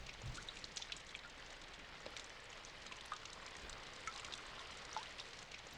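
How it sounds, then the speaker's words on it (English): Steady rain patters close by, a dense hiss of drops with scattered louder taps rising slightly at moments, with no voices over it. "Rain got loud."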